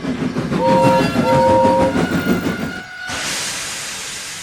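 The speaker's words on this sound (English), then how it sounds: "The train arriving at platform 1 is the 15 service from Napton to" A train arriving at a station platform rumbles close by, sounding two short horn blasts over rhythmic clacking wheels before the noise shifts to a steady hiss.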